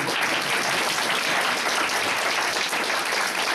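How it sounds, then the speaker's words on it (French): A live audience applauds for a few seconds during a Saturday-evening show, dense, even clapping filling the room at steady volume without a voice. "Vous pouvez applaudir."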